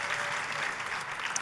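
Church congregation applauding, a dense, steady burst of many hands clapping that fills the room, with no speech over it.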